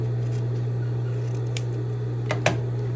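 Scissors trim a fabric seam allowance on bias tape during sewing, a few sharp, close snips near the end of the clip over a steady low electrical hum.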